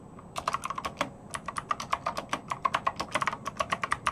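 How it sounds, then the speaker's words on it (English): Quick, uneven bursts of keystrokes clatter on a computer keyboard, close and clear with brief pauses between flurries. "Typing back."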